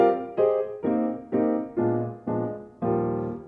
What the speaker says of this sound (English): If you play that without a pedal, it sounds like this.